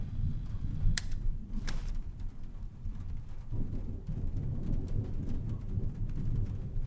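Steady rain hiss with low rumbling thunder rolling underneath in the video game Trüberbrook, plus a couple of sharp crackles early on; constant and moderately loud throughout.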